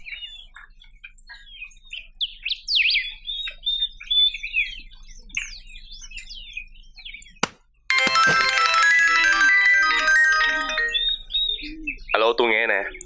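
A phone ringtone with a chirpy, bird-like melodic trill rings loudly and continuously for several seconds after a sharp click, following stretches of chattering tones, in a Vietnamese drama scene.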